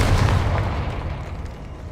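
A Confringo fire spell in Hogwarts Legacy goes off as one deep, booming blast up close, its rumble slowly fading over about two seconds.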